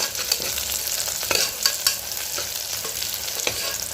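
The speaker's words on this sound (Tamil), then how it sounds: "இப்போ வெங்காயம் நல்லா வதங்கிட்டு இருக்குது." Sliced onions and broken dried red chillies sauté in oil for a mutton fry, a bright steady sizzle with irregular scraping stirs and small clicks of the spatula against the pan.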